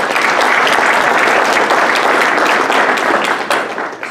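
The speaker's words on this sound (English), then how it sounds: "So a round of applause for that." Audience applause at a business opening event, a dense, steady round of clapping from a full room, loud and sustained throughout, easing slightly toward the end.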